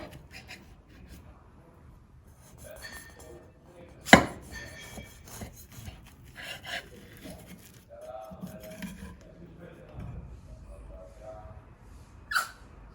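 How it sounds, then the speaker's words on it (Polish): A knife slicing through a soft, still-warm orange Christmas babka made from whole oranges, with quiet soft cutting and rubbing sounds, a sharp knock of the blade near the middle, another later, and a faint voice now and then. "Kroimy. Jest mięciutkie."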